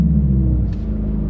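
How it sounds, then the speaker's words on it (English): A 2025 Mercedes-AMG CLA 45 S 4MATIC Coupe with a 2-liter turbocharged inline-four, set to Sport Plus, fires up from cold: a steady, loud low rumble that swells briefly near the middle, close to the car. "Cold start."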